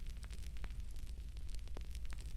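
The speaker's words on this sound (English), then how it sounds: "the sound threading through the crackle of the fire" Wood fire crackling in a castle kitchen's bread oven, a steady bed of low rumble dotted with sharp pops and snaps scattered throughout, close and moderately loud with no voices.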